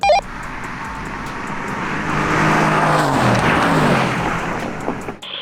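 An 800 hp Stage 3 Mercedes C63 AMG and a 750 hp Stage 2 AMG GTR roar past in a drag race, engine noise swelling loud through the middle before fading, ending with a brief sharp knock.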